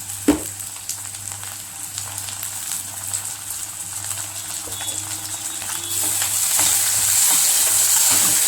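Tomato sautéing in a pan for vermicelli upma, a continuous close sizzle with occasional stirring scrapes and a sharp knock near the start, growing louder toward the end.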